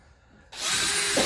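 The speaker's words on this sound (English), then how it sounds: "I'm gonna drill some holes." A power drill boring holes in a plastic poultry processing cone starts abruptly after a quiet moment and runs loud and steady to the end.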